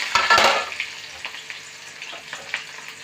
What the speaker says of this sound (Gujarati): હવે નાખી દઈએ આમાં ડુંગળી